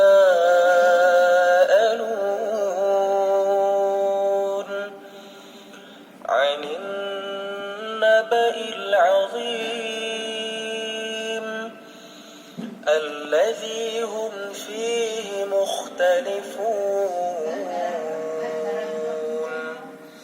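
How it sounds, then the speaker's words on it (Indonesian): Music-like tonal playback comes from the small built-in speakers of an Axioo MyBook 11G budget laptop, moderately loud and steady, with a few short pauses and dips. "Dan ini suara dari speakernya."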